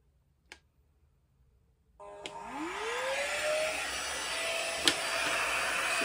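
A Dspiae compact rechargeable vacuum for model makers switches on after a couple of clicks and whirs up with a rising tone, then runs as a steady high-pitched suction whine with a brief tap midway.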